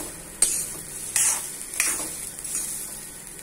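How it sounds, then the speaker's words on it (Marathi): Wheat grains dry-roasting in a pan and being stirred, a steady dry rustle with sharp scraping strokes of the spoon every second or so. "बघा आता गहू छान भाजल्या जाऊन राहिले आहे"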